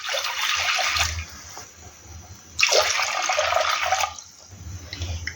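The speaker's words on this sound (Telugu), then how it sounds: "దీంట్లోకి ఒక 2 గ్లాసెస్ వాటర్ యాడ్ చేసుకుందాం" Water is poured into a clay pot on a stove in two bursts, each a bright splashing gush, with a quiet pause between them and low rumbling under both.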